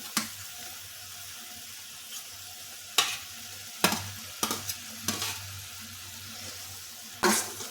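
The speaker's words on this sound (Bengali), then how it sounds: "এখন ভেজে রাখা মাছগুলো এর মধ্যে দিয়ে দিচ্ছি।" Fried moya fish stirred into melted sugar in a pan, a soft steady sizzle with several sharp scraping clatters of the spatula, close and fairly quiet with no talk.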